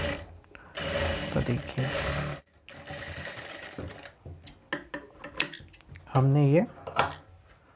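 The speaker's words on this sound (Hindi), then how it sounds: "मैं इसमें डायरेक्ट कॉर्नर पे सिलाई लगाते चल रहा हूँ" Short runs of close sewing machine stitching on a blouse neck corner come between bits of handling, with someone briefly talking over the stitching.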